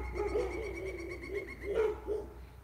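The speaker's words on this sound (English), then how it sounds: "Yeah, those dogs are pretty crazy." Dogs barking somewhere out in a forest, a few repeated yelping barks at moderate distance over a steady low outdoor rumble, with no talking.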